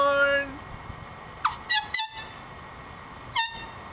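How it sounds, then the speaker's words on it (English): An air horn sounds first as a long held tone, then as a quick series of short, sharp blasts and one last toot, each loud and close with quiet gaps between. "I hope you enjoyed my air horn"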